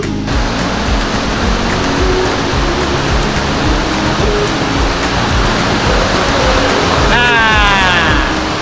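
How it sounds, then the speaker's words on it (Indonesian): Waterfall on the Ciliwung river at Situ Duit in Bogor roars as loud, steady broadband rushing water, close and continuous, with a brief chirping sound near the end. "Air terjun Situ Duit."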